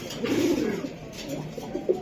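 Silver Giribaz racing pigeons coo in low, soft throaty rolls, close by and moderately loud, over a steady background hiss with no speech.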